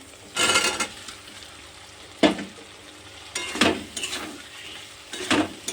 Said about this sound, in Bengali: ভেজে রাখা আলুগুলো দিয়ে দিলাম। দিয়ে আর একটু নেড়ে চেড়ে কষিয়ে নেব।